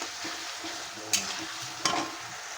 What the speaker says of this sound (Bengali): মশলা দিয়ে ভালো করে আমি কষিয়ে নিয়েছি